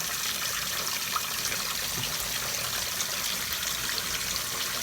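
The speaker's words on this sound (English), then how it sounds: "I'm just going to fill this up with some hot water" Water runs steadily from a tap in a soft, continuous hissing stream, fairly quiet and alone.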